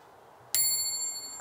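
A bicycle bell strikes once, a bright, close metallic ring that rings on and slowly fades in a quiet room.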